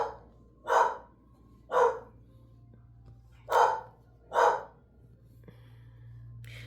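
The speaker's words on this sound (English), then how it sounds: "My doggy is barking at the..." A dog barks five times at a moderate distance, the sharp barks spaced unevenly over a low steady background hum, with no one talking.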